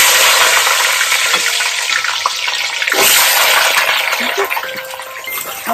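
Potato slices dropped a few at a time into hot oil to fry into aloo chips, giving a loud, steady bubbling sizzle with occasional shifting and stirring, no voices over it.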